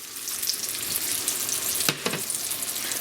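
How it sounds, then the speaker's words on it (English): Eggplant slices fry in a pan of oil with a steady close hiss and sizzle, broken by a brief sharper crackle midway as more oil or slices hit the pan. "I'm going to finish frying all of these eggplants"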